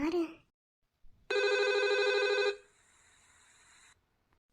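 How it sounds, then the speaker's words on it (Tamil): Landline telephone rings close and loud in a steady electronic burst lasting over a second, then a quieter tone trails on; a voice is heard briefly just before the ringing. "லேண்ட்லைன்லேருந்து கால் வரல, பர்சனல் ஃபோன்லேருந்து கால் பண்ணுறாரு லேண்ட்லைனுக்கு"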